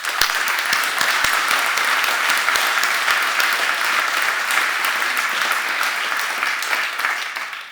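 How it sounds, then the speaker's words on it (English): A crowd at an event applauds its sponsors with sustained, even clapping that fills the room, a few sharper individual claps cutting through near the start before the applause fades slightly at the end. "And a round of applause, please, for our sponsors."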